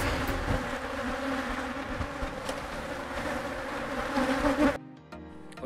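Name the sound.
swarm of honey bees during honey harvest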